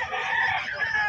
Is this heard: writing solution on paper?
no